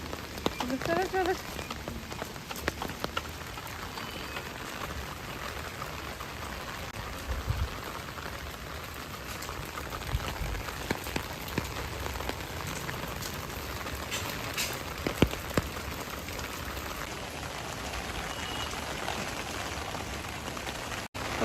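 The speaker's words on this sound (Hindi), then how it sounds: "कितनी तेज़ बारिश हो रही है।" Heavy rain pours down in a steady, dense hiss of drops spattering on surfaces, loud and close throughout, with occasional louder splashes and faint voices in the background.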